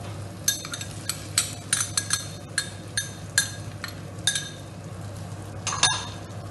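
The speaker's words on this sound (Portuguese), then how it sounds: "Vamos refogar." Onion is sautéed in a pan with a spoon stirring and scraping, giving a string of clinks and knocks at irregular intervals over a low, steady background hiss, close by and without voices.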